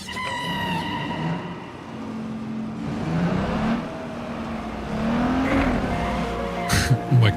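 A car driving through Dogtown in Cyberpunk, engine revving up and down with tire squeals and skids as it turns, loud and close, a few tonal game sounds near the start.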